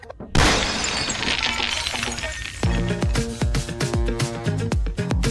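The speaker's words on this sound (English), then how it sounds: "We smashed it into small pieces." Something inside a toy bus is smashed into small pieces: a loud initial crash with shattering glass-like debris, followed by a run of sharp breaking hits and tinkling fragments, close and alone.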